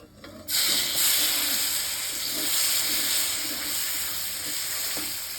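Oil in a wok bursts into a loud, close hiss as turmeric and salt go in for soyabean curry, and the sizzle holds steady to the end.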